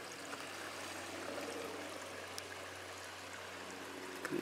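A small stream trickles and burbles steadily at low volume, a soft continuous flow of water with a few faint splashes.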